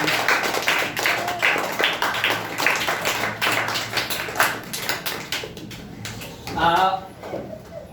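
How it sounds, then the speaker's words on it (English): An audience claps after a speech at a public speaking competition. The applause is moderately loud and mixed with voices, then thins out toward the end as talking comes through. "Well, clap for me."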